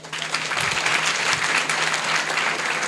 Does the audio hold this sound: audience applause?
yes